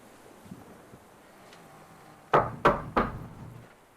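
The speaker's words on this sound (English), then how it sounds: "You knock again." Three sharp knocks land on the wooden door of a hut, close and distinct with a short gap between each, after a few quiet seconds of near silence.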